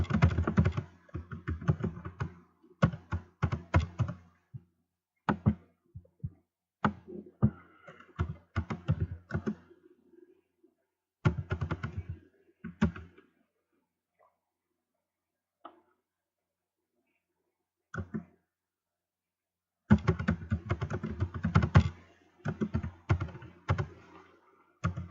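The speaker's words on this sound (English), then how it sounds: "It may get a little quiet, but that's because I'm typing these things up on the net." Someone types on a computer keyboard in bursts of rapid clicking, separated by long quiet pauses, close and fairly loud.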